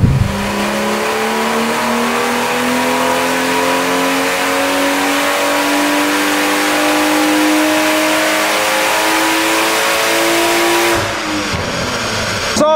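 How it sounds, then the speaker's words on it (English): BMW M140i with a B58 engine and hybrid turbo, loud and steady under full load on a dyno, its pitch climbing smoothly through one long pull for about eleven seconds before cutting off abruptly into a brief rumbling wind-down. "Just going on the dyno with this M140."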